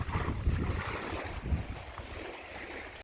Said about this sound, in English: Obviously it's windy right now.